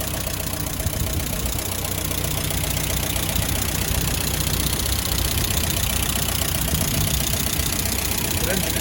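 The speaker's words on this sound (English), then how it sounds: "The engine itself runs nicely." A Land Rover Series II 88-inch petrol engine, ex-military and warmed up after a drive, idles steadily with a low rumbling knock and a constant mid-range drone throughout.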